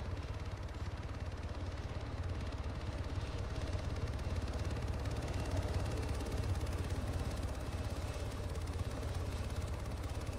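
A helicopter in the military game Arma drones steadily with a dense, even rotor and engine roar that holds unchanged and close throughout.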